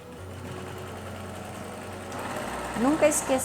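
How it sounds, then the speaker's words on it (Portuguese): A sewing machine stitches the side seams of a patchwork fabric bag, a steady mechanical whirr running alone for several seconds before easing off amid brief handling noises. "agora então eu vou passar a costura fechando a essa lateral e essa"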